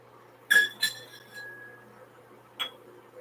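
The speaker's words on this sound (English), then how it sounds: "I've got these nifty little glass bottles that I put it" Small glass bottles clink together close by, two quick ringing knocks, then a single lighter clink after a pause.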